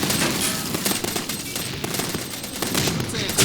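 Rapid, continuous machine gun fire blends with battle noise in the World War II strategy game Men of War: Red Tide, loud and sustained with overlapping bursts and no talking.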